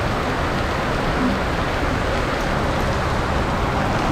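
Heavy rain pours steadily and loudly at a jeepney terminal, a dense, unbroken hiss of water with no pauses and no voices.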